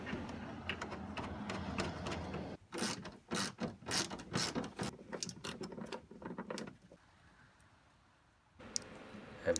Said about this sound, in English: Retighten nuts in the back of the assembly.